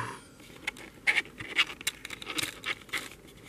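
Last page of a stamp album being turned: quiet, brief papery rustles and light scratchy taps, close up, with no talking.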